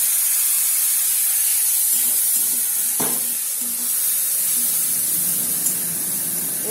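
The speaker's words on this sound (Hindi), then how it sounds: "वाटर देके अभी ये हल्का फ्राई कर रहे हैं।" Potatoes fry lightly in a pan with spices and added water, giving a steady, close hissing sizzle with bursts of steam, one sharp clink and soft stirring.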